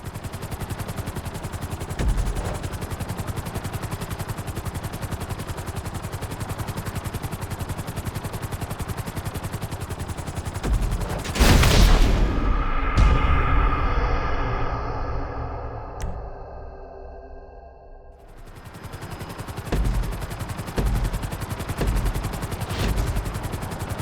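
A helicopter in Grand Theft Auto V flies during a speed course, with a steady rotor drone, then a loud burst of engine and game noise midway that fades before the drone returns.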